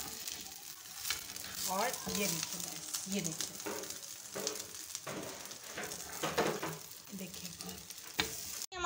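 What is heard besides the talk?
bread frying in oil on a tawa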